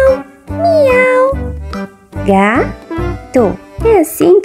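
A voice imitates a cat meowing in several drawn-out, rising and falling meows, closely miked, with short pauses between them.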